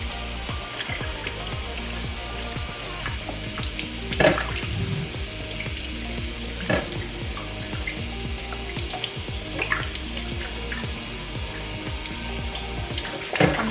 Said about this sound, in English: I'm going to wash them and put them in another bowl.